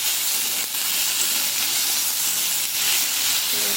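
Tomatoes sizzle in a hot pan with fried potatoes and turmeric while cooking ghugni, a steady, loud, bright frying hiss with small crackling pops throughout, no voices.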